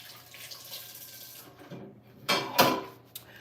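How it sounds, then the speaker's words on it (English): Kitchen tap running as hands are rinsed under it while shrimp is being prepared, a soft steady stream followed by louder splashy bursts near the end. "I am just going to rinse my hands."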